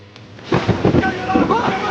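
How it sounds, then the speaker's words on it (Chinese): Rain suddenly begins at a period drama scene, a steady broadband wash swelling in after a quiet half second and holding loud to the end, with voices and a few strained vocal sounds over it. "下雨了！"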